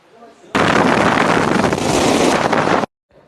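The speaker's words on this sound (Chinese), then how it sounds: "看一下这个风机，有我2个高，风速可以达到300" A powerful wind-tunnel fan for testing motorcycle wind resistance, about twice a person's height, blasts strong wind in a loud, continuous roar that starts abruptly and cuts off just as suddenly.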